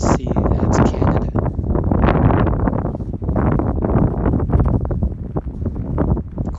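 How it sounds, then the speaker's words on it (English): Strong, cold wind buffets the microphone continuously in Bay City, Michigan, a loud rumbling roar with gusty swells throughout. "Quite windy and cold."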